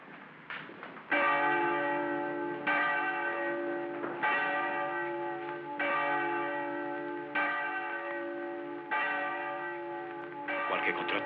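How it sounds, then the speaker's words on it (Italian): A church bell rings out as an alarm in a 1949 film, heavy repeated strikes roughly every one and a half seconds, each with a long ringing decay, loud and clear with no speech over it. "Suonare la campana adesso sarebbe un gravissimo sbaglio."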